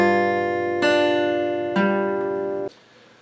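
Guitar slowly playing a Hytale riff: three sustained, ringing plucked notes spaced about a second apart, the last one cut short into silence, clear and up close.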